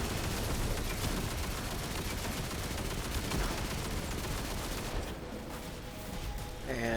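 Heavy ammo gunfire in The Quarry video game, rapid continuous bursts of automatic shots, loud and close, easing slightly toward the end as game sounds take over.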